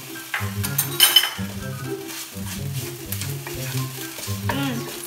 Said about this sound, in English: Now we'll be adding our 3 cloves of minced garlic. One teaspoon of grated ginger.